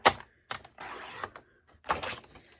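A card base for a handmade greeting card is cut on a paper trimmer: a sharp click, then a smooth sliding blade stroke across the cardstock and another click, close and clear with no voices.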